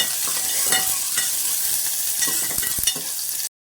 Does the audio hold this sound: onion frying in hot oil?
yes